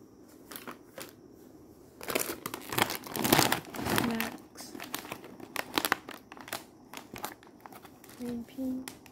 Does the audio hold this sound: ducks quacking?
no